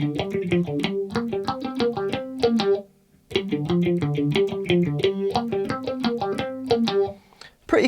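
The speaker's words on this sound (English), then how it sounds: "I've put on a bit of a phaser effect just to match the sound of the track" A clean electric guitar plays a quick alternate-picked lead line from a song with a swirling phaser sweep, pausing briefly midway before continuing.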